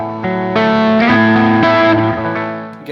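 A 1983 Gibson Les Paul Custom electric guitar picked softly through its classic pickups, giving a cleaner tone as sustained chords ring out one after another with a slight effect-laden shimmer, close and alone.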